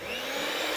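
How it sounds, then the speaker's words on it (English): Electric whisk with beaters whisking meringue for a baked Alaska, a steady high motor whir held at constant pitch through the short burst, close and fairly quiet with no voices. "the best thing for this is an electric whisk"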